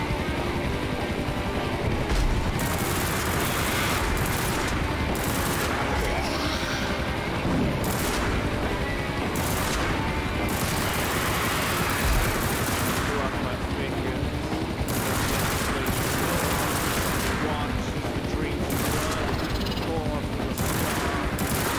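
Rapid turret gunfire and explosions from the split-screen vehicle game Endgame: Road To Salvation, loud and continuous throughout with dense bursts and booms layered over game music.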